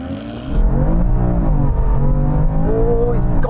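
A BMW M3 Touring accelerates hard in a drag race against an M340i, its engine rising in pitch through a loud, close, sustained run with a brief shift dip, heard from inside the car.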